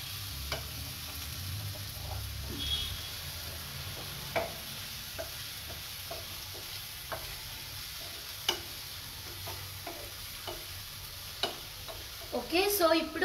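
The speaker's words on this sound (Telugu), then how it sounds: "సో ఇప్పుడు కొంచెం ఫ్రై చేసుకుంటామంట." Potatoes for mint aloo masala frying in a pan, a steady close sizzle with a spoon scraping and stirring in irregular strokes, no talking.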